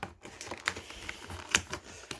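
Plastic wrapping of a Tsum Tsum squishies booster pack crinkles and tears as it is opened, giving close, irregular rustling with a few sharper crackling bursts.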